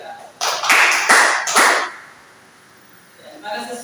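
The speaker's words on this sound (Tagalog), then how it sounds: "Bigyan natin ng tatlong palakpak si Nika." A classroom of students gives three loud, unison claps in a steady rhythm, then falls quiet, with faint talk returning near the end.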